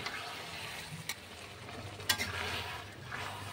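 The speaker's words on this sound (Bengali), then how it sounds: "এইভাবেই এটা নেড়ে চেড়ে সব মাংসগুলো যাতে ভালোভাবে মানে ভাজাটা হতে পারে সেইভাবে নাড়াচাড়া করে নিতে হবে বারবার।" Marinated mutton chaap sizzles in a pan while a utensil stirs it, with a steady frying hiss broken by a few scraping clinks, fairly close and without talk.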